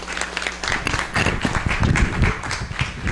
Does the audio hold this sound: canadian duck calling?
no